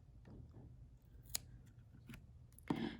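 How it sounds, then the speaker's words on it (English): Scissors snip dangling craft strands in a few quiet, sparse cuts, faint metallic clicks close to the microphone in an otherwise hushed room, with one sharper snip at the end. "you can take your scissors and carefully snip off the extra strands, the dangling strands"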